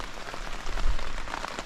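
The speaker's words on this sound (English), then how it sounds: "I'm just waiting for the rain to stop, and then once it stops, I'm gonna cook dinner or something." Rain drumming on a tent while hiking in Scotland, a dense, steady patter of drops close by with a low rumble underneath and no talking.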